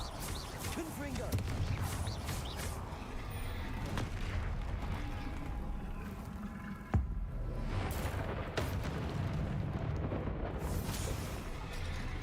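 Fiery Confringo spell blasts in the Hogwarts Legacy video game burst again and again amid dense combat noise, loud and continuous for several seconds, with a voice calling out over the action.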